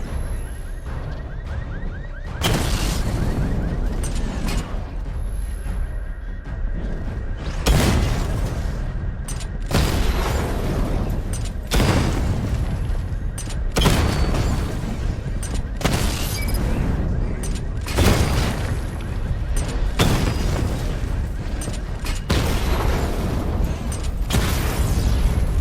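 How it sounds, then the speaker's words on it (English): Repeated heavy missile barrages fire from the Batmobile in Batman: Arkham Knight, each a loud booming burst of rapid explosions lasting a second or two, separated by short quieter pauses, continuing throughout. "Charge the missile barrage to level 2 to destroy up to 4 targets at once"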